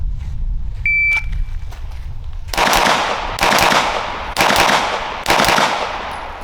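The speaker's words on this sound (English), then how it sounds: "Failed to follow through on that last shot." Glock pistol shots at a shooting range, four loud, sharp reports spaced about a second apart, close by, preceded by faint clinks and handling noise.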